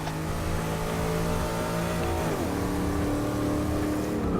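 In Forza Motorsport 6, a car running a high-torque engine setup revs loudly. A continuous engine whine with strong harmonics climbs steadily, then drops sharply at a gear change and builds again.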